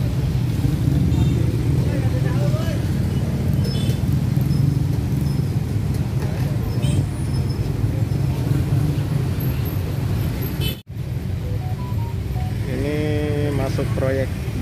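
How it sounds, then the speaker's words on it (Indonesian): A steady, close rumble of many cars and motorbikes crawling along a narrow road in a traffic jam near Batu Tulis station in Bogor, with a voice heard faintly at times. "Ini memang jalannya cukup kecil dan banyak kendaraan yang melintas."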